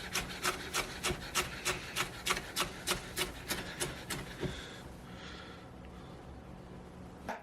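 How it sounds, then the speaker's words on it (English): A knife finely slices the green part of a scallion on a cutting board, giving about a dozen quick, evenly spaced crisp chops, close and clear, before trailing off into quiet. "I got to take the green part of a scallion and slice it."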